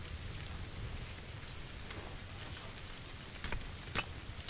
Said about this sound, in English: I can't hear because of the rain.